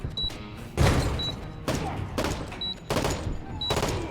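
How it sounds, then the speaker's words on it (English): Frag grenade explosion in Door Kickers 2 blowing a hole in a wall, a heavy thump followed by repeated loud crackling bursts of gunfire over a steady game background with faint electronic beeps. "it did blow a hole in the wall"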